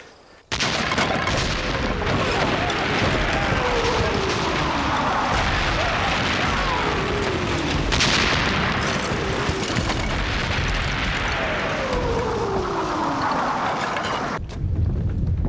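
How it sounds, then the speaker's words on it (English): Heavy booming blasts roll continuously over a dense, rumbling wash of noise, like distant cannon fire echoing without pause. "No, Mr. Bracegirdle. That is cannon."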